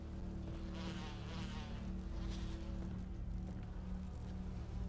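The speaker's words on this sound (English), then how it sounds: "There's like giant bees all over the place." Giant bees in a Resident Evil video game give off a continuous, low insect buzz that drones steadily throughout, fairly quiet, over a constant humming game background with no speech.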